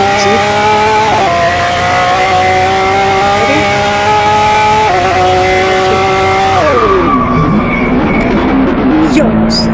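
A Lamborghini engine in the Car Driving Ultimate video game revs loudly and steadily while drifting, holding a high whine that steps up through shifts and then dips as the car slides, with talk mixed in.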